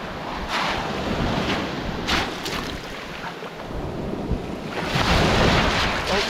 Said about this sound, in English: Wait for these waves to come in.